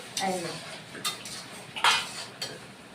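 A metal lid set onto a cooking pot: a few sharp clanks and rattles spaced over a few seconds at close range, with faint background sound between them.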